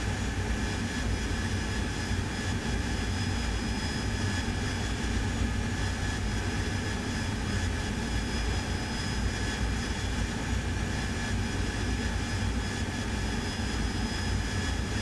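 An AV-8B Harrier jet lands in the DCS flight simulator game, its engine a constant loud roar with a steady high whine and no break in the drone.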